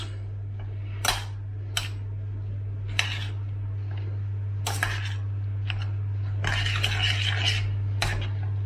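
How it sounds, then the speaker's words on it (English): A cheese and onion loaf batter with shelled hemp seeds is stirred in a bowl, giving a few sharp clinks and scrapes of a utensil against the bowl over a steady low hum. "And give it a good old mix."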